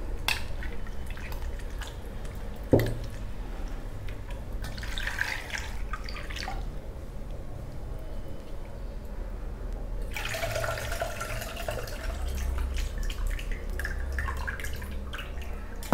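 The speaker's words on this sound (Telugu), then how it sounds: "చింతపండు వేడి నీళ్ళు నానబెట్టుకున్నాం కదా, అది కొంచెం గట్టిగా పిసికేసి రసం తీసుకుందాము." Soaked tamarind pulp being squeezed by hand in hot water to draw out its juice for sambar, giving soft wet squelches and drips that run steadily and close by, without any talk.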